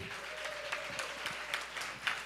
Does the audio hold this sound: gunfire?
no